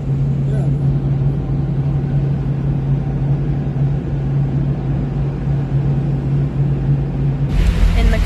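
Steady low engine rumble and road drone inside a moving car, constant and loud throughout with a steady hum, ending in a brief burst of broader noise.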